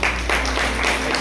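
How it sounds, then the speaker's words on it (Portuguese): A church audience claps in a short burst of dense, continuous applause with a steady low hum underneath, loud and close throughout. "Você pode aplaudir Jesus?"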